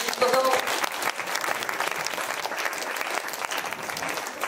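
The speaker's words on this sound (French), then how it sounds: "donc on peut les applaudir" A crowd at a school cabaret evening applauds students after their act, a dense, steady wash of many clapping hands at moderate distance that carries on evenly throughout.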